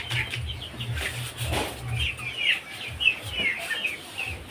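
Chickens in a coop flap their wings and cluck in scattered bursts, with soft chirps and rustling throughout at a moderate distance.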